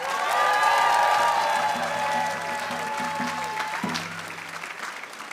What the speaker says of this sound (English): Now, applause please.